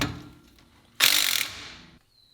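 Quick ratchet clicks fill a one-second burst as a screw is tightened down while a car's exhaust is installed, close and crisp, fading off into quiet afterward.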